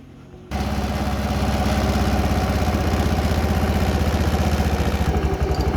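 A TVS Jupiter BS6 scooter engine, which has an idling complaint, fires up after a brief quiet moment. It settles straight into a close, steady, pulsing idle that stays even for several seconds.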